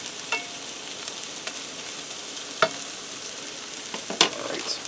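Onions sizzle and crackle quietly in a skillet on a stove over medium-low heat, a steady close frying hiss broken by a few stirring scrapes and pops, with no one speaking.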